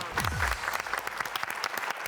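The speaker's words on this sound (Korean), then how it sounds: "박수 한번 쳐주시죠" Audience applause at an outdoor lecture on Jeju Island near Sanbangsan mountain, a dense patter of many clapping hands heard at moderate distance, steady throughout with no speech.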